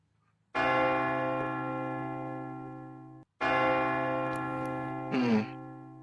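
A large bell in a video game tolls twice with a rich, sustained ring, each stroke decaying slowly before a brief gap, sounding cracked and bit-crushed; a short buzzy electronic blip follows the second strike.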